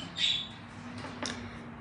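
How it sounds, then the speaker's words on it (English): A pet parakeet chirps once, faint and distant from downstairs, followed by soft, sparse sounds against a quiet room hum. "Yes, that's a little bird you hear in the background."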